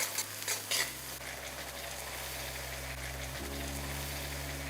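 Fried onions sizzle steadily in a pan as garlic paste is stirred in, with a few scraping stirs near the start over a constant close frying hiss.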